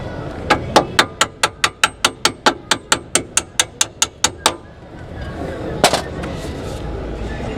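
Small hammer tapping a Meister R Zeta CRD suspension part on a Mk1 Mazda MX-5, a rapid run of about sixteen sharp metallic knocks close up, followed by a pause and a couple more taps.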